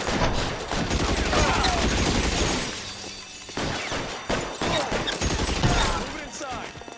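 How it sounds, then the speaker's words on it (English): Shotgun fire in the video game LA Noire, loud repeated blasts and crashing impacts over a dense noisy backdrop of combat, with game dialogue mixed in. "Shotgun."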